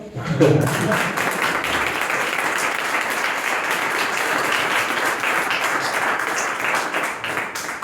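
Audience at a book presentation breaking into applause, a sustained burst of many hands clapping that swells at the start and carries on evenly to the end, with faint voices mixed in.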